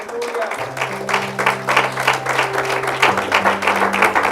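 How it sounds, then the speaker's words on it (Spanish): A church congregation applauds together in a steady round of clapping, loud and sustained, while held organ or keyboard tones play underneath. "¿Por qué no le damos un aplauso al Señor?"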